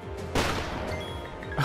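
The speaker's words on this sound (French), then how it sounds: "On esquive des coups de feu." Two sharp bursts of game gunfire in Final Fantasy X HD Remaster crack out, loud and close, with a muffled rumbling fight filling the gap between them.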